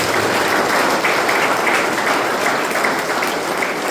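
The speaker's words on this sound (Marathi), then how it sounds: "आपण टाळ्या वाजवत" A church congregation claps together in loud, continuous applause, dense and steady for several seconds with no talking over it.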